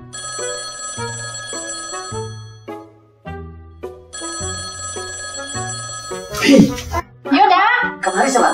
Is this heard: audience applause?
no